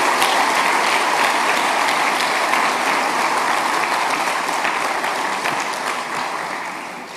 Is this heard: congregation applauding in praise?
yes